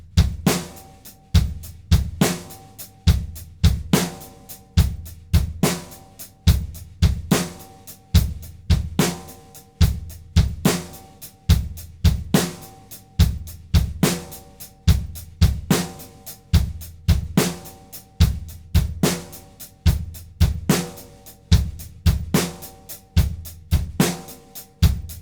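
A drum set plays a steady triplet-feel beat, with the bass drum on the first and third notes of the triplet on beats one and three. The crisp, even strokes repeat in a looping pattern at a moderate tempo.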